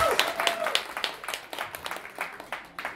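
An audience at a live music concert gives a burst of applause after a solo, with brisk uneven clapping from a modest crowd that tapers slightly toward the end.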